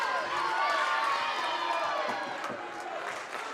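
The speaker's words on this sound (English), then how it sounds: "Crowd becoming vocal here at the Armory." Spectators cheering and shouting at a women's college volleyball match in the Armory gym, a loud sustained roar filling the hall throughout.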